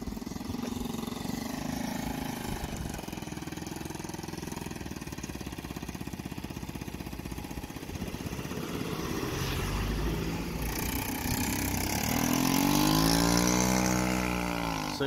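A Honda CF70 Chaly three-speed automatic motorcycle engine runs on a test ride, a steady buzzing idle that rises into a smooth rev toward the end, fairly close and with no talking.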